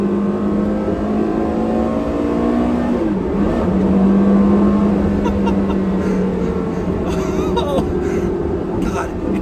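Porsche Carrera GT engine revving loudly and close, a rising harmonic whine that climbs and falls through several swells with continuous exhaust roar.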